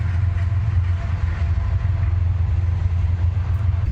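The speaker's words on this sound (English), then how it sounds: "It's a train!" Train passing near a field of wild flowers, heard as a steady, loud low-pitched rumble and engine drone that holds evenly throughout, with no voices over it.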